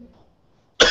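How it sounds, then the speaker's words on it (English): A man coughs once, a short loud burst near the microphone arriving after near silence. "How come he's coughing, bud?"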